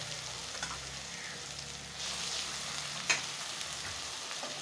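Onion and ginger-garlic paste fry in a pan with a soft, even hiss of hot oil, a faint sizzle that rises slightly midway, with one brief sharp clink of a utensil and no talking.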